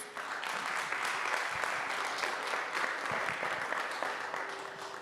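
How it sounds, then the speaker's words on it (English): An audience applauds a chief scientist being welcomed on stage at a CGIAR Science Week strategic dialogue, a dense, steady wash of many hands clapping that holds loud and even throughout. "Give her a round of applause"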